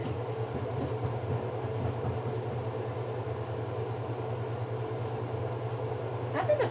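Rolls dropped into a pot of hot oil give off a steady, even sizzle and bubbling hiss that runs unbroken throughout, with a low background hum underneath.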